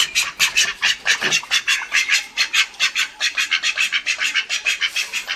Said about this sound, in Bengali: আমার কাছে দুটো হাঁস আছে, হাঁসগুলোকে খুলে দেব।